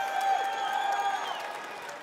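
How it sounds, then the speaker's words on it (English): A crowd at the Summer Game Fest 2023 show cheers and applauds in a big live hall, a sustained, fairly loud wash of voices with a few shrill whistles rising over it. "People cheering for Faith Farm."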